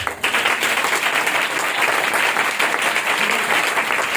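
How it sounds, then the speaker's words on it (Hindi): A church congregation in Pakistan breaks into vigorous applause, steady massed clapping from many hands filling the room for about four seconds, close and loud. "आप अपने लिए जोरदार ताली बजा दें"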